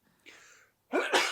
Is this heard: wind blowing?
no